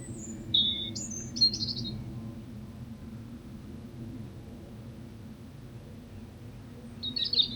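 Birds chirp outdoors at a quiet, empty campsite: a few short, faint twittering calls near the start and again at the end, over a steady low background hum.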